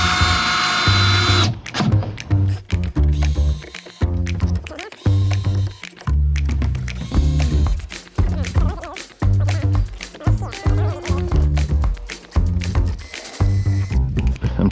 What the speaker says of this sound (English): I'm trying to make sure I drill the holes deep enough